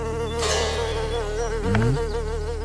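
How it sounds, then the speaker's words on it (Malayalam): A housefly buzzes close by with a continuous droning whine that wavers in pitch as it moves. A brief lower swoop comes near the end, and no voices are heard. "ഈച്ച"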